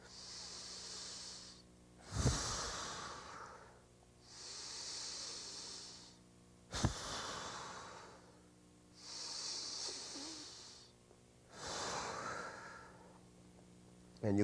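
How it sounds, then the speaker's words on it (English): Slow, deep chest breathing demonstrated by a saxophone teacher: long hissing inhalations and exhalations repeat about four times, close and fairly loud, with brief sharp snort-like catches between breaths and no talking. "And you can see what we call chest breathing"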